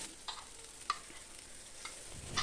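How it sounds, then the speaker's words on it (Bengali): Black cumin, dried chillies and garlic fry in hot oil, giving a faint, steady sizzle with a few small pops and crackles, while a utensil scrapes and stirs now and then. "এটাকে যখন একটু ভাজা ভাজা হবে তারপরে দিয়ে দেব গাটি কচু"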